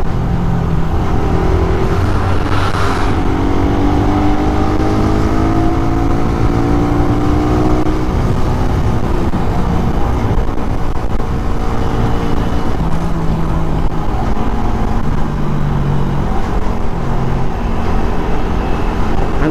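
A Raider 150 motorcycle engine revs loudly and continuously up close, its pitch rising and falling through repeated throttle blips over a steady rumble, with no talk.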